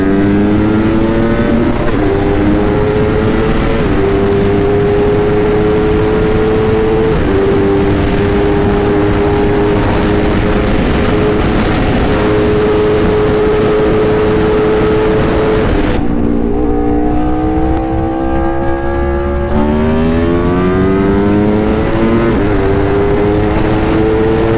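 Aprilia RSV4 1100 Factory motorcycle on a hard second-gear pull, a loud, close engine howl climbing steadily in pitch, with a brief drop in revs before it rises again, no talk over it.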